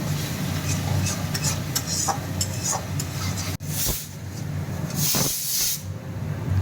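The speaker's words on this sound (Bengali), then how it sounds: "দেখতেই পাচ্ছেন মশলাটা খুব সুন্দরভাবে কষা হচ্ছে" A spice paste for a Bengali fish curry sizzles and hisses steadily in a pan as it is stirred, with scraping stirs and bursts of louder frying, close and continuous.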